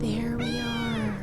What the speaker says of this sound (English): for our kittens. You can hear them meowing in the background.